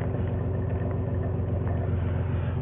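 A green van's engine idles with a steady, low, continuous rumble that stays even throughout, close by and with no voices over it.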